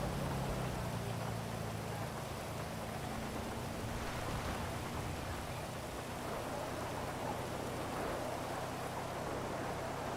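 Steady rain hisses in a roleplay video game, a constant even wash of noise with a low rumble underneath, running unbroken throughout.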